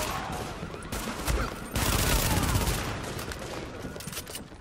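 Rapid hip-fire gunfire from an assault weapon in Tom Clancy's The Division, steady bursts of shots with a denser, louder stretch in the middle, set against distant enemies in a street fight.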